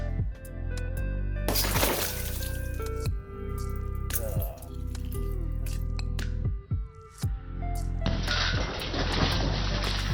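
Toughened glass shatters while being cut, bursting into sharp crackling and tinkling fragments in several loud bursts, with pieces clattering and skittering close by, ending in a sustained hissing crumble.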